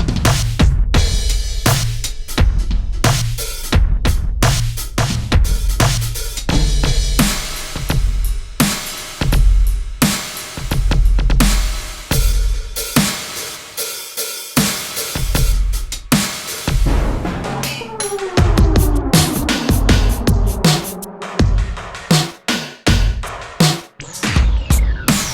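A full drum kit from a drum sample library plays a steady groove with punchy kicks and snares, loud and continuous, with the sound texture shifting partway through as effects are switched on and off.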